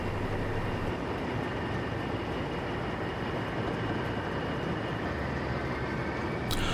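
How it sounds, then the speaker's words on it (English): A Heljan model Class 15 diesel locomotive hauling a long petrol and fuel oil train, a steady continuous rumble and rolling clatter with constant motor hum, close and unbroken, with no talking. "Our Class 15 has quite a long petrol and fuel oil train from various suppliers."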